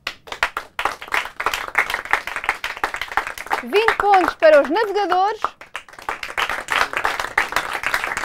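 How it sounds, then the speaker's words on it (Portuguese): Applause from an audience at the final round of a Portuguese quiz, with scattered clapping running under a host announcing team scores, and a brief musical jingle midway. "Uma salva de palmas."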